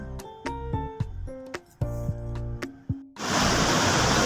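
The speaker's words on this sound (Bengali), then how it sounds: "দেখুন জলটা কীরমভাবে পড়ছে কি স্রোত বাপরে আর তেমনি আওয়াজ" Rushing river current on the Gomukh–Tapovan trek, with water falling hard: a loud, dense, continuous roar of churning water that cuts in abruptly after a stretch of plucked tonal music and then holds steady.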